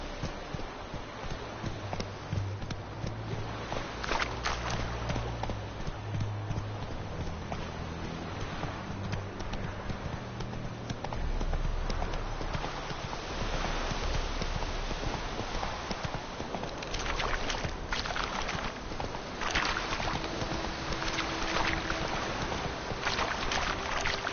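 Hoofbeats of the horse Roach in The Witcher 3: Wild Hunt, a steady clip-clop rhythm running the whole time beneath wind and water-like ambience, with no talking.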